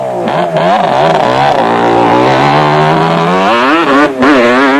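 Loud, close engine roar of off-road race vehicles, including four-stroke Honda machines, at a 1998 South African off-road race, pitch climbing and falling as they rev and pass by, with no voices.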